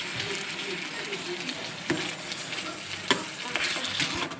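Meat being stir-fried with yogurt, ground poppy seed and cashew paste and sauce, a steady sizzle with soft scraping and a few sharp clinks of a utensil against the pan, with a voice talking over it.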